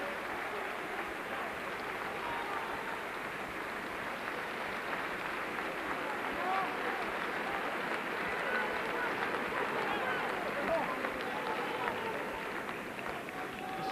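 A crowd applauds at a 1989 American football game between the Manchester Spartans and Birmingham Bulls, with steady, fairly distant clapping and murmur holding at an even level throughout.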